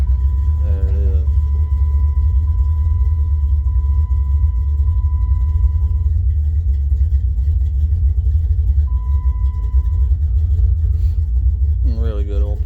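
A healthy car engine idles steadily after being started with the key, a loud continuous low rumble throughout, with a steady tone heard across parts of the clip and brief speech at the start and end.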